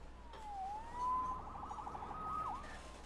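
A police siren in the Spider-Man PS4 video game wails in steady rising and falling sweeps at a moderate distance, sounding alone over a low ambient rumble.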